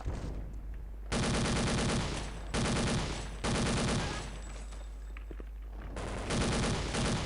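M249 machine gun in Counter-Strike: Condition Zero Deleted Scenes firing in several sustained loud bursts, each lasting about a second, separated by short pauses with quieter background game sounds.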